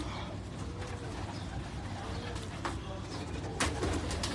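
Pigeons coo softly and steadily on a Karachi rooftop loft, a low continuous murmur of birds with a few sharper bursts near the end.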